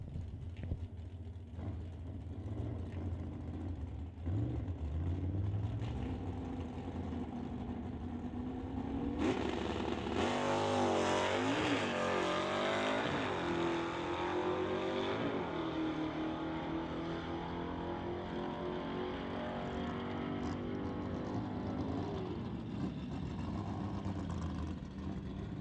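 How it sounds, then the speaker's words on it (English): Dale Posnick's Riff Raff Racing Mustang drag car makes a test pass at an NHRA Summit ET drag strip, its engine revving up and then roaring loud and sustained through the run, with rising and shifting engine tones. "just making a test pass for the Riff Raff Racing Mustang"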